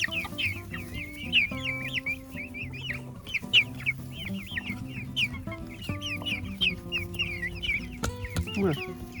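Newly hatched quail chicks in an August brood cheep in dense, rapid high peeps throughout, with overlapping calls from many birds close by and a steady low hum underneath.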